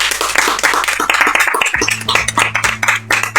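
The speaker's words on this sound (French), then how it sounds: "on peut l'applaudir bien fort" Quick hand clapping for a guest on a French podcast, a burst of claps over a low music bed.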